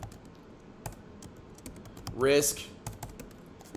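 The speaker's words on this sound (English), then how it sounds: "there's going to be lots of typing in this" Steady, fairly quiet typing on a computer keyboard while setting up trades, with a voice speaking briefly over the clicking keys partway through.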